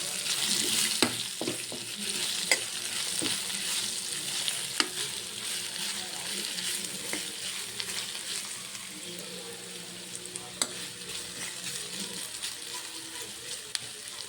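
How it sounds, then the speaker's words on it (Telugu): Vermicelli for upma sizzles in a pan on low heat, a steady close frying hiss punctuated by occasional light clicks and taps of a spoon, with no talk. "ఇది బాగా ఫ్రై అయ్యేదాకా సిమ్లో పెట్టుకోవాలి."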